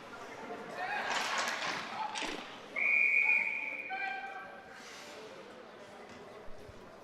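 A referee's whistle blows at a men's college ice hockey game, one sharp, fairly loud blast followed by a fainter trailing tone, with arena noise and commentary underneath.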